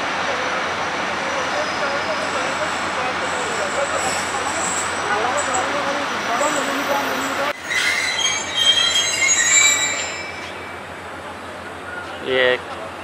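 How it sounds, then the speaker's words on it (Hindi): A passing train on a railway line between Punjab and Karachi squeals and clatters nearby as its wheels and cars roll by. Steady train rumble runs beneath the passing and ends with shrill bursts of wheel squeal. "एक और ट्रेन भी जैसे गुजर रही है"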